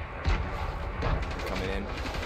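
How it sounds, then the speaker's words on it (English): Gunfire in Fortnite Battle Royale: a few quick, muffled shots cracking over a busy game soundscape, with a voice talking at the same time. "Being shot by somebody else."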